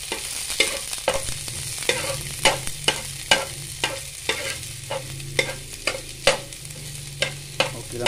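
Onion and garlic sizzle gently in a pan for ginataang tuna while a utensil scrapes and taps in an irregular, repeated stirring rhythm, close by with no talking.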